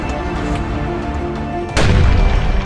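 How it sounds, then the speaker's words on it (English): A cannon fires inside an old fortress exhibit, a single loud deep boom that rolls out after a stretch of noisy indoor background. "You can literally hear the firing of the cannons"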